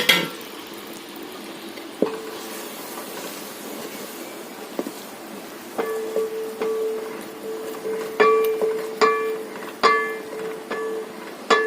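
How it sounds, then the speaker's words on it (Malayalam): Strained jaggery syrup stirred in a pan while making gooseberry lehyam, with a spoon scraping and clinking against the metal in irregular bursts that grow busier toward the end, over a low steady hiss, no voices. "നമ്മൾ അരിച്ചു വെച്ചിരിക്കുന്ന ശർക്കര പാനി ചേർത്ത് കൊടുക്കാം. നന്നായിട്ടൊന്ന് ഇളക്കി കൊടുക്കാം."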